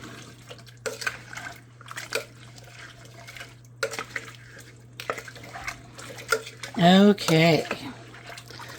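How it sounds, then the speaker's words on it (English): A spoon stirs hamburger soup with three cups of water in a crockpot, giving wet sloshing and scraping sounds that build to a loud burst of stirring near the end, with a person speaking briefly over it. "we're going to give this a stir. A really good stir."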